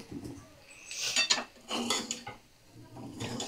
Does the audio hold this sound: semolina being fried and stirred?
yes